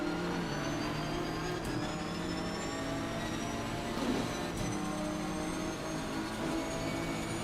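A race car in the racing game Assetto Corsa Competizione at Spa, with a steady engine drone and gear whine close by and another car passing briefly mid-way, no talking.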